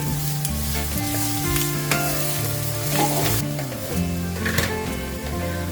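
Grated coconut, frozen a month earlier, fries in a pan with a steady close sizzle throughout. A spatula stirs and scrapes it at intervals, and no one speaks.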